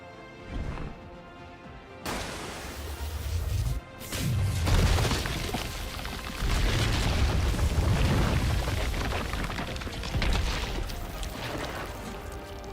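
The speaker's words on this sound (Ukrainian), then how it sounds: "Другий постріл." A loud Resident Evil 3 gunshot cracks out, followed by booming crashes and a noisy, rumbling barrage that continues throughout.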